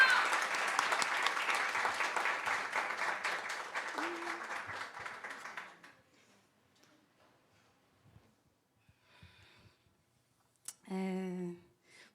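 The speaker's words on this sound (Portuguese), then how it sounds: "Palmas, gente, por favor." Audience applause welcoming a guest speaker at a panel on Black artists in the performing arts: steady, full clapping for about six seconds that stops abruptly, followed by near silence, faint sounds and a brief voice.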